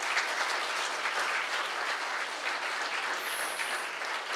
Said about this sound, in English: A big round of applause for all the members of the Shree Prakash fraternity.